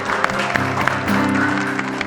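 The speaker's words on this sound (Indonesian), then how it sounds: "kita bisa kasih tepuk tangannya untuk Vita Lesesa." Studio audience applause on an Indonesian television show, a dense burst of clapping running throughout with a voice over it.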